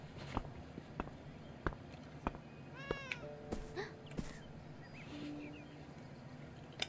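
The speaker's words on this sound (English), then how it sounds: "Okay, so we can hear a cat ahead." A cat meows several times in rising, curving calls amid light game ambience in the video game Beyond Eyes, with soft footstep-like taps scattered throughout.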